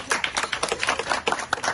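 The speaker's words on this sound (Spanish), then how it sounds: "Con el aplauso de todos, por favor." Applause at a sports foundation ceremony honouring girls' volleyball players, a brief burst of dense hand clapping from a nearby crowd with no talk over it.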